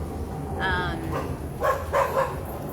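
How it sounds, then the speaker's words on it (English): Neighbor's dogs bark a few times nearby, short yapping bursts in quick succession over a quiet background. "Don't mind the neighbor's dogs."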